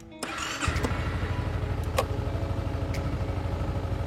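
A Honda Forza 250cc scooter engine cranks and catches, then settles into a steady, loud idle with a low, even rumble, and a few faint clicks sound over it.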